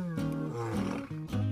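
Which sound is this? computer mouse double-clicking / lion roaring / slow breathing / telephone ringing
lion roaring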